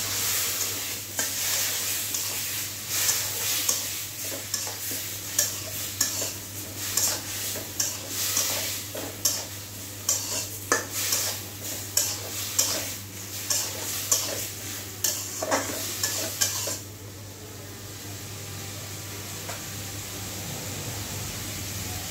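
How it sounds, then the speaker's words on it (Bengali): Mixed vegetables stir-fried with spices in a pan for a prawn curry, with steady sizzling and repeated scraping taps of a spatula for about seventeen seconds before the stirring stops and only a soft hiss remains. "মশলার সাথে সবজিগুলো সুন্দরভাবে কষিয়ে নিয়েছি"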